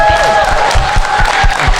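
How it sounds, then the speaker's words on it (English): Audience applause after a Disney Q&A panel, a dense wash of clapping with low thumps and a faint crowd murmur beneath a voice. "let's have another round of applause"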